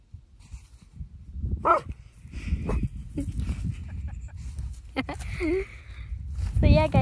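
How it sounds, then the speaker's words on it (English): A dog barks several times in short, irregular bursts at something outside, fairly close, with a few yips and whimpers, while a person talks over it and footsteps shuffle. "My dog is barking at something"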